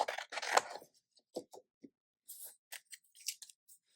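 Paper trimmed away from a handmade shaker birthday card with scissors: a few short, quiet snips and crisp cuts in brief separate bursts, close by, with silent gaps between and no voices.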